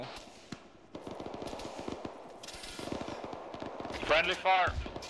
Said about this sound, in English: Friendly fire!